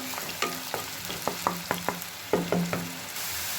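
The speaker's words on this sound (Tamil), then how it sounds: "அரைச்சி வச்சுருக்கிற ஆனியனை மிக்ஸ் பண்ணிக்கலாம். நல்லா பச்சை வாசனை போகிற வரைக்கும்" Ground onion paste with green chilies sautéing in a pan, a spoon tapping and scraping in a series of sharp, irregular strokes over a faint low sizzle, close and fairly quiet.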